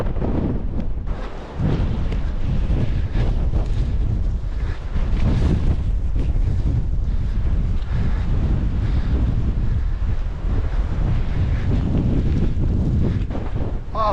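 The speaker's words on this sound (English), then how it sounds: "That wind and that snow ain't letting up at all." Gale force wind roars over snowy winter moorland in the West Pennine Moors, buffeting the microphone in loud, continuous gusts with brief lulls.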